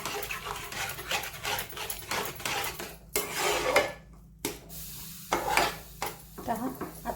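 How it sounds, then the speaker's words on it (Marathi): Close stirring of semolina in boiling water, a spoon scraping and clinking against a pot, in uneven bursts with brief pauses, over a soft bubbling simmer. "एकसारखं हलवायचा आहे रवा उकळत असताना"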